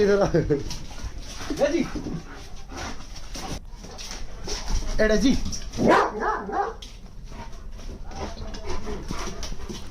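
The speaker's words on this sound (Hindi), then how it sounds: "वफादार कुत्ता अपने मालिक और घर की रक्षा के लिए सांप से भिड़ गया।" A dog barks and yelps repeatedly in short agitated bursts while fighting a venomous snake at a house in Kanker, Chhattisgarh, with whimpers between, loud and close, mixed with people's voices.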